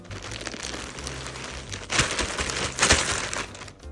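A plastic bag holding clothes is handled and crinkled, giving a steady close rustle with two louder crackling bursts partway through.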